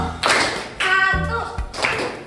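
A classroom of students clapping once in unison on cue, three sharp group claps spaced roughly evenly apart, each followed by a brief murmur of voices.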